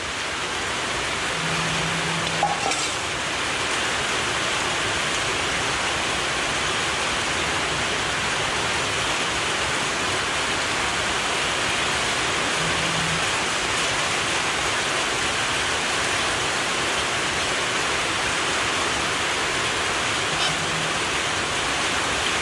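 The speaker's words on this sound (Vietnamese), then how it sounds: "Trời mưa to quá luôn các bạn à." Heavy outdoor rain pours down in a dense, continuous hiss, loud and steady throughout, during a carp fishing outing, with a few faint brief knocks in the background.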